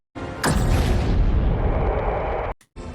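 A single loud gunshot in a film bursts out and leaves a sustained booming roar that fills the scene before cutting off abruptly, with no speech over it.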